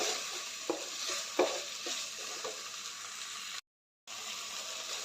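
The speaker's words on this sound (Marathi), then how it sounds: "कांदा टोमॅटो लालसर होईपर्यंत भाजून घ्यायचं आहे" Onion and tomato roast in a pan for a spicy Maharashtrian eggplant dish, giving a soft, even sizzle broken by a few light spatula scrapes, with a brief silent gap near the end.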